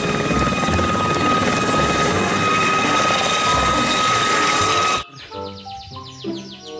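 Toy military helicopter giving off a loud, continuous rotor-like whirring drone for about five seconds, then cutting off abruptly into a brief burst of electronic tones.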